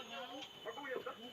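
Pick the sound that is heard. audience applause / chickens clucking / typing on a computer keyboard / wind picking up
chickens clucking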